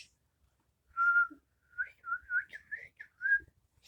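A person whistles a lively, wandering tune in a few short melodic phrases with brief gaps between them. The whistling is close and clear over near silence.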